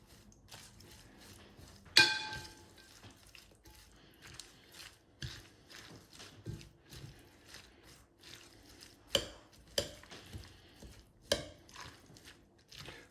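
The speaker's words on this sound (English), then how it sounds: "We're just going to mix them together." Coleslaw ingredients tossed together in a large bowl, giving soft, scattered scrapes and taps of utensils against the bowl with a sharper clink near the start, quiet and close with no talking.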